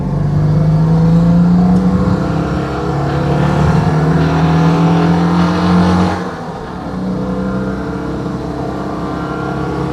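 Citroën 2CV engine running roughly with an unhealthy note, a loud, close, steady drone with uneven harmonics that dips in level partway through and carries on without speech.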